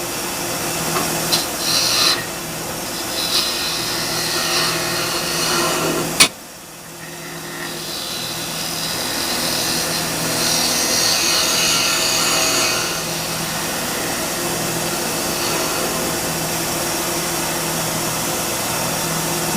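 A woodturning lathe cutting out the center of a napkin holder gives a steady, loud broadband whir and hiss with one sharp knock partway through, then the cut resumes, with no voices.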